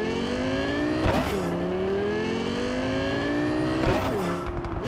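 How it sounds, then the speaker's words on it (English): A Bugatti-style car in Cyberpunk 2077 carrying a Lexus LFA engine note roars steadily and loudly, with two sharp gear shifts that drop the pitch before it climbs again. "Very, very clearly a Bugatti of some sorts. But it has the engine sound of a Lexus LFA."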